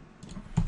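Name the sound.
typing on a computer keyboard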